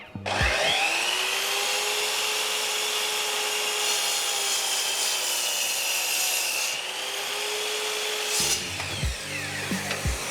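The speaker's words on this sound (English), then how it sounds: "I haven't made a box yet with a miter saw." A miter saw slices through scrap oak for a small box, a loud sustained whine of the blade biting into the wood for several seconds before spinning down and stopping.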